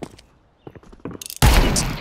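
Video game gunfire in a bomb-planting tactical shooter, starting with scattered soft shots and footsteps, then a loud, dense burst of rapid fire up close at the end.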